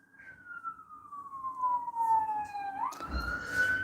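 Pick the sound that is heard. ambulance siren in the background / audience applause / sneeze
ambulance siren in the background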